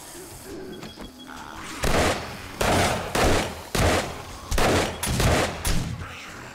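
Bursts of gunfire in the zombie survival video game 7 Days to Die, Apocalypse Ranger run; about seven loud, evenly spaced volleys over a quieter ambient bed, with no talk.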